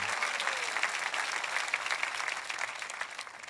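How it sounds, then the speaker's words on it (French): A church congregation breaks into steady, dense applause, a continuous even wash of many hands clapping at moderate distance with no talk over it. "Voulez-vous applaudir la résurrection avec moi?"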